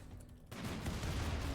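Burst of gunfire from colonists shooting in the RimWorld video game, with dense, loud, overlapping shots starting abruptly and continuing steadily to the end.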